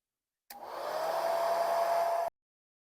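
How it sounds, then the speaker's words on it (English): A hair dryer blow drying a sky painting, switching on abruptly and blowing steadily with a high whine for about two seconds before cutting off, alone and close. "I'm going to blow dry it"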